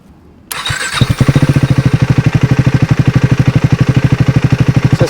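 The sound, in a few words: motorcycle engine starting and idling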